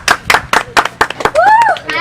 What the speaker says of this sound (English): let us give a round of applause for little Paul Dublin